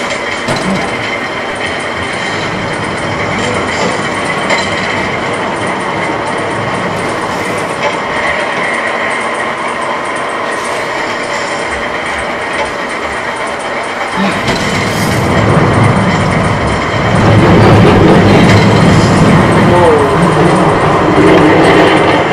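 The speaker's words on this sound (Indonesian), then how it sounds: "Panjang banget sih ini roller coasternya." A roller coaster ride in a VR video rumbles steadily with rail clatter and rolling wheels, then swells louder and deeper toward the end as the car speeds along the track.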